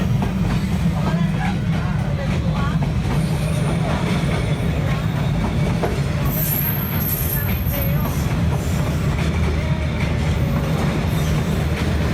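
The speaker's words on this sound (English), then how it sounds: "Tourists gather on Hanoi Train Street, specifically to meet a train that passes just a few centimeters away from people." A train rumbles steadily through a narrow Hanoi street just centimeters from gathered tourists, a continuous loud roar with faint wheel clatter and squeals and a murmur of people underneath.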